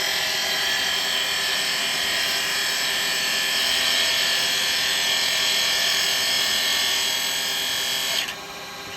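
A woodturning lathe hums steadily while a carbide cutter rides the bevel in a push cut, producing a continuous high whirring, scraping hiss across the spinning wood that cuts off sharply near the end, close and loud with no talking.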